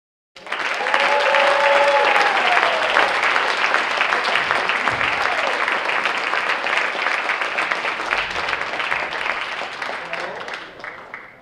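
Warm applause from the audience for the Brookings High School Jazz Ensemble at a jazz concert, dense and loud crowd clapping that starts abruptly and carries on for about ten seconds, with cheers and whistles mixed in before it tapers off.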